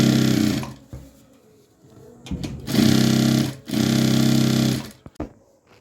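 A sewing machine runs close and loud while stitching a cross pant with a double line of stitches. It gives two long steady runs, plus a few short starts and stops.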